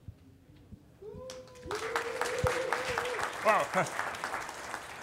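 Audience applause for speaker Dan Hardiker, CTO of Adaptivist, at the Atlassian Summit 2013 conference. A short spoken exclamation comes first, then dense clapping breaks out and holds steady, with voices talking over it.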